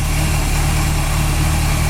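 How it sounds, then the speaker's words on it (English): A 1965 Pontiac GTO with a rebuilt 389 and Holley four-barrel idles close by, giving a steady, even low rumble with no talk over it. "Engine runs nice and smooth"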